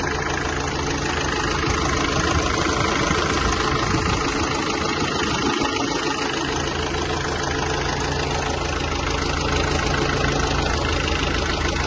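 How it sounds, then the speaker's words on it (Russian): A 2020 Kia Seltos engine idles evenly with the hood open, a steady mid-to-low hum with no knocking, close to the microphone and continuous, with a brief dip in the low rumble partway through. "Двигатель работает ровно."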